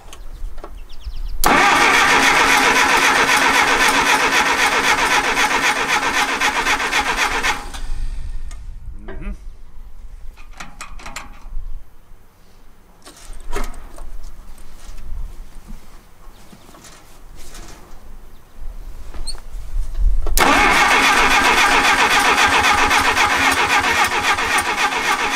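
A rescued 1959 Case 300B tractor that sat outside cranks loudly for several seconds and falls quiet through a stretch of clunks and handling noise. Then it cranks hard again, close by and with no talking.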